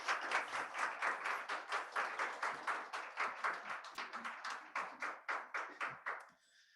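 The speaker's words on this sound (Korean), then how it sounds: "우리 들어갈 때까지 박수로 격려하도록 하겠습니다." A church congregation at a youth worship service claps in encouragement, a rhythmic, unison beat of claps repeating steadily for several seconds before fading out, moderately quiet.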